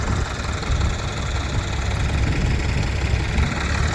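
A tractor engine drones steadily and loudly while planting potatoes, a low mechanical rumble with no pauses.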